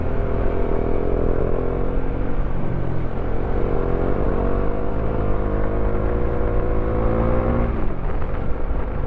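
A Suzuki Raider FI motorcycle passes in Sunday afternoon traffic, its engine note rising and falling steadily amid the dense, continuous rumble of cars and other vehicles close by.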